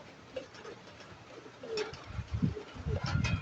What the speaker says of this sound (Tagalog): Yung dalawang ibon na to.